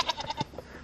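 Several short goat bleats sound near and moderately loud in quick succession at a homestead goat barn, with no talk over them.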